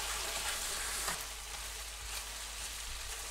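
Mala xiang guo frying in a pan while being stirred, a steady close hiss of sizzling oil with soft scraping of the utensil, alone without talk.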